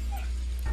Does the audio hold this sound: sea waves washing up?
no